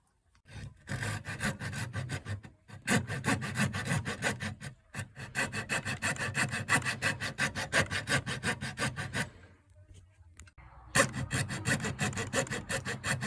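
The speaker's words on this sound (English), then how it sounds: "I think I'm going to use a coping saw." Coping saw cutting through guitar neck wood, a steady run of rhythmic push-pull rasping strokes close by, briefly pausing twice before resuming.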